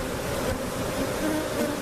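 Honeybees buzz and fan steadily at a hive just relocated from a large cutout, a dense continuous drone heard up close.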